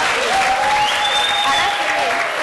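Loud applause from the audience at a Catalan spelling contest, a dense continuous clapping wash with a whistle-like tone gliding over it, people in the crowd making noise throughout.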